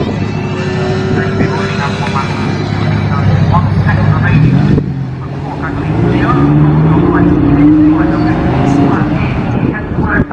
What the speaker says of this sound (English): The Huracan STO's doing a few revs. V10 noises.